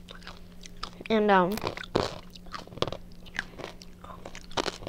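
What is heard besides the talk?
crunchy dried meat being chewed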